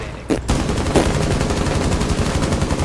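Dense, continuous gunfire from the video game Rainbow Six Siege, loud and sustained throughout with rapid bursts layered over a steady background of game noise.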